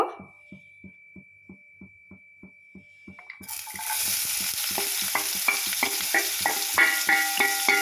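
Onions frying in oil in a pan for mushroom gravy. A run of quiet rhythmic taps over a faint hum gives way to a loud, steady sizzle with repeated stirring scrapes.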